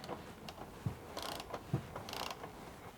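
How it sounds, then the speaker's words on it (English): Small clicking and ratcheting bursts as a lower M6 screw is backed out of a rear half door net on a Polaris Ranger XP 1000 Crew, with a few brief creaks between turns, close and fairly quiet. "Remove the lower M6 screw from the net."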